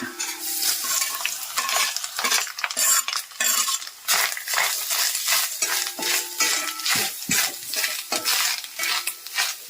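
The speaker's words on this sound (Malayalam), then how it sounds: "ബാക്കി നമ്മൾ വെച്ചേക്കുന്ന തേങ്ങായും കൂടെ ഇതിനകത്ത് ഇട്ട് നമ്മൾ വറക്കുവാണ്" Grated coconut fries in a pan while a spoon scrapes and stirs it in repeated strokes, a steady sizzle broken by close, sharp metal scraping and clinks, with no talking.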